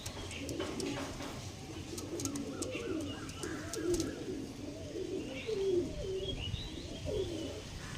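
Pigeons of fancy breeds being sold coo repeatedly in soft, rolling low calls, several birds overlapping at moderate distance, with scattered chirps and faint clicks in the background.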